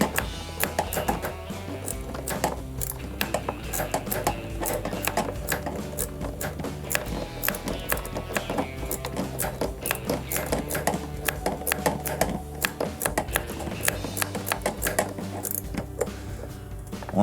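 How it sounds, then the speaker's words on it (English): A ratcheting wrench fitted with a long extended Phillips bit clicks rapidly and repeatedly as it backs out a screw on a Samsung dishwasher pump assembly, with a brisk continuous ticking rhythm throughout, close up. "But we're just going to use a ratcheting wrench."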